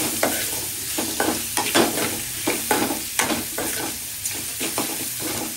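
Grated raw mango being stirred through pulihora in a pan, a steady scraping of a spoon with soft clumpy mixing strokes and a faint sizzle underneath, close and moderately loud, no voices.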